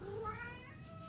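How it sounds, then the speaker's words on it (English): A cat gives a single drawn-out meow with a rising then falling tone, faint and somewhat distant over a quiet background. "And then, that's the cat, Charles Perwin."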